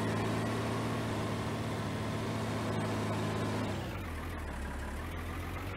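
A tractor engine in Farming Simulator 19 with an implement mounted on the back drones continuously at close range, then drops to a lower, rougher idle about two-thirds of the way through.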